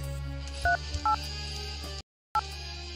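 Three short two-tone touch-tone beeps ring out one after another while someone dials a phone for an emergency call, over a steady low hum, followed by a brief silence and one more beep.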